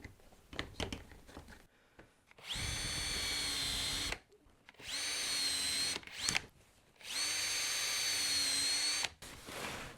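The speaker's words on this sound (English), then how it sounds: "Bring in a drill." A power drill bores into wood through a Woodpeckers Auto-Line drill guide in three sustained whining bursts separated by short pauses and light handling clicks, close and clear with no talk.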